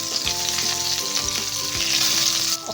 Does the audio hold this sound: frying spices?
yes